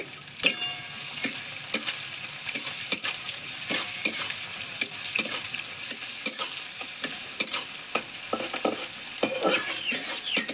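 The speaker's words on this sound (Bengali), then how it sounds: "পেঁয়াজটা একটু ভাজা ভাজা হোক" Chopped onions frying with dried red chilli and black cumin in a pan for a jackfruit curry, a steady sizzle broken by frequent scraping stirs of the spatula, close and moderately loud, with no voices.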